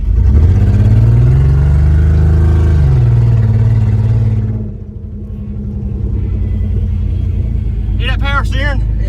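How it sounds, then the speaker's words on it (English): A General Dakota engine runs with a deep, steady rumble and a whining power steering noise; the pitch rises briefly and then settles back to idle, with a voice speaking near the end. "Hear that power steering?"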